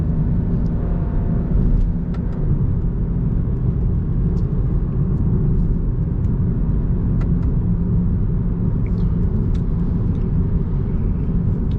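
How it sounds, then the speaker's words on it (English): A BMW E92 335is with a DCT gearbox cruises with a steady, loud low engine and exhaust drone, broken by a few faint, brief pops and burbles. "It has stock burbles, you know, like an M package car would."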